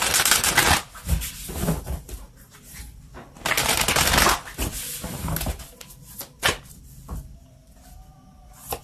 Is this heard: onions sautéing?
no